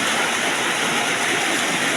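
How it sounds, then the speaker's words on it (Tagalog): Steady rain falls as a dense, continuous hiss with no breaks, close and fairly loud, alone without voices. "Tunog ng ulan."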